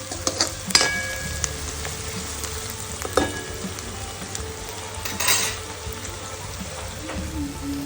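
Onions frying in a pan for a Gujarati peanut bhajiya curry, a steady close sizzle with occasional clinks of a spoon stirring against the pan.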